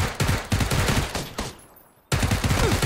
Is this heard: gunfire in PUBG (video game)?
yes